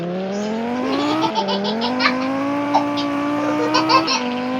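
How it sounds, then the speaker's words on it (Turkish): A synthetic car engine whine rising steadily in pitch, with brief gear-shift dips and scattered tire-squeal chirps, loud and continuous. "Arabanın sesi maçta nasıl değişti ya?"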